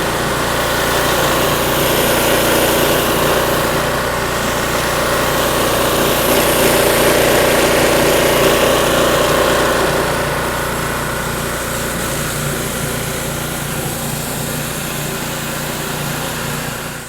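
Pressure washer engine running continuously, a steady, loud mechanical drone with a whiny high hum and a spray hiss, slightly easing off toward the end.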